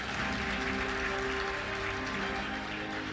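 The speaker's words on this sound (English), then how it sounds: "Shall we do a big round of applause for them?" An audience at an alumni lecture gives a round of applause for a sponsor, a continuous bed of clapping heard over a steady tonal hum, even and moderately loud throughout.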